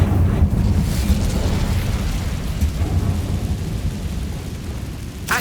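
An Incendio fire spell goes off in Hogwarts Legacy as a sustained booming, thunder-like rumble that stays loud throughout and fades slightly, ending with a sharp burst.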